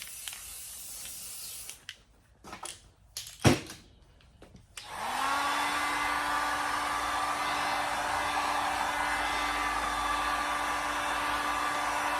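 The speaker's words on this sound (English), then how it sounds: "I'd rather dry them first with the heat gun" A heat gun dries a fresh coat of paint. After a few seconds of scattered clicks and rustles it switches on, and a steady, close, whooshing hiss with a constant whine holds to the end.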